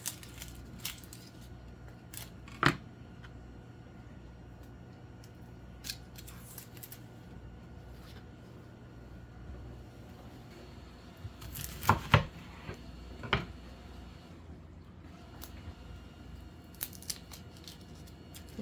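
A knife cuts a big sweet yellow onion on a board, a few sharp isolated chops and crunches spaced apart over a steady low room hum, close and moderately faint.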